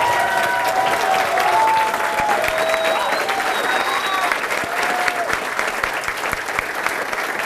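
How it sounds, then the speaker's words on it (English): A large audience at a StarCraft 2 tournament final applauds steadily and continuously, with scattered whistles and cheers rising above the dense clapping throughout. "give you a round of applause."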